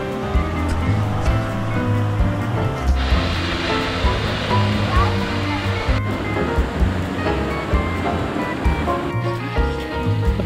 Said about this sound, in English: we've come across this nice little waterfall.